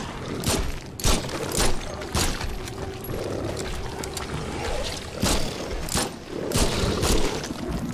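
Gunfire in the horror video game Nightmare Fuel, with several sharp broadband shots and bursts scattered across a busy, noisy game soundtrack, fairly loud and close.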